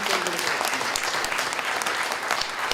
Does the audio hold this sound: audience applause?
yes